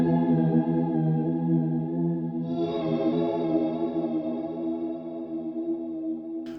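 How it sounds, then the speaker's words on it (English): Walrus Audio Slöer reverb pedal with mix turned fully up, a sustained, shimmering wash of layered harmonic tones that swells and brightens midway, wavering gently with modulation. "I'm going to turn the reverb mix up full now so you can all hear exactly what the modulation is doing."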